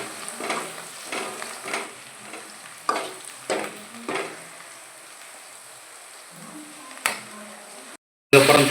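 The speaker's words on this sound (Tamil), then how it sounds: "முதல்ல வெங்காயத்தை போட்டு நல்லா வதக்கணும்." Onions sautéing in a pan for a Tamil bottle gourd curry, with a soft sizzle and repeated scraping stirs near the mic, several bursts of stirring across the stretch, then a loud noisy burst at the very end.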